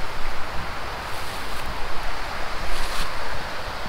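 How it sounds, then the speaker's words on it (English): Broad, constant rushing of a river flowing near a foothills hiking trail, loud and unbroken with no voices. "There's a river."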